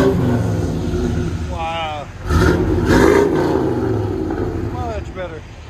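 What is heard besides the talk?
car engine revving through a Flowmaster big block muffler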